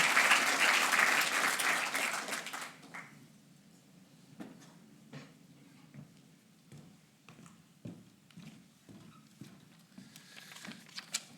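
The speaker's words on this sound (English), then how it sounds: "If you mind giving a round of applause to Peter" Audience applause at an AI awards ceremony: a loud burst of clapping fills the opening seconds, then fades to scattered claps and room noise.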